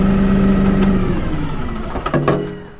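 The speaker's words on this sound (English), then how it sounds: "Hold on, we gotta shut the tractor off." A tractor engine running at a steady mid-pitched drone, then winding down and cutting off over the last couple of seconds, close by with no talk.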